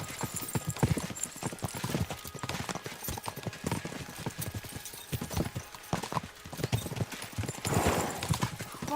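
Steady hoofbeats of horses galloping in Kingdom Come: Deliverance II, a dense rapid clip-clop filling the whole stretch, with a brief whinny and some background noise.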